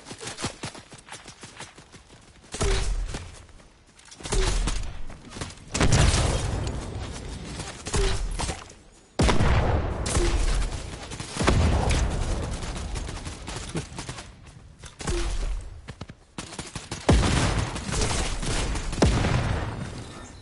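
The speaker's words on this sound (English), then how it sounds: "sticky grenade launcher" Sticky grenade launcher firing in Fortnite: a series of loud, punchy blasts and bursts with sharp onsets, broken by brief quieter gaps, each burst trailing into a rumbling, crackling tail.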